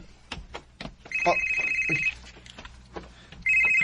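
Mobile phone ringing indoors in repeated electronic tone bursts, fairly near, with brief knocks and thin voices around it.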